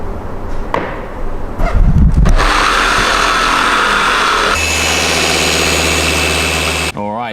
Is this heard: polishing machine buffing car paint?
yes